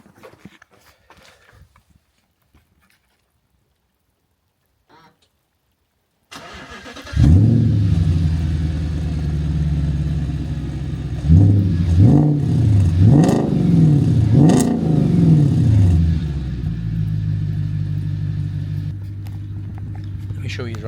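A 2008 Audi S5 with a naturally aspirated 4.2 litre V8 and manual gearbox starts up after some quiet shuffling, settles into a loud idle, then revs sharply three times before easing back to idle, close and powerful.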